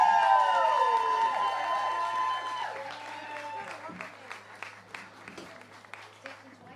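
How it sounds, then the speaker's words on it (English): Applause from a festival crowd at a Tyrone Fleadh evening for an All-Ireland champion band: a sustained tone fades out first, then scattered, fairly faint clapping takes over and thins toward the end. "Ladies and gentlemen, please give a big round of applause"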